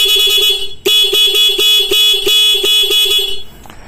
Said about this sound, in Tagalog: ito na po yung ating tutunog, yung ating stack horn na merong interrupter relay